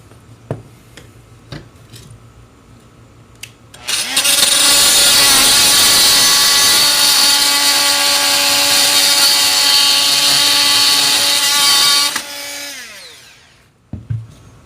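A power tool cuts off perimeter bolts on a 1992 Airstream Excella trailer, running as one loud, steady whine for about eight seconds between a few quieter knocks and clicks.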